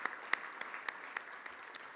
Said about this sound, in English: we should give them a little round of applause